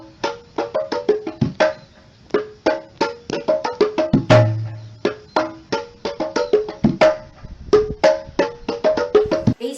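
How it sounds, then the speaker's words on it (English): A gendang, a Malaysian double-headed wooden drum, is struck in quick rhythmic patterns, mixing sharp slaps with deeper resonant strokes. It plays close and loud with brief pauses and no voices. "The gendang sounds like this."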